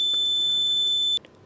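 Electronic alarm on an HC-SR04 ultrasonic sensor circuit gives a steady, high-pitched beep for about a second, then cuts off, followed by a faint brief chirp, with no talk.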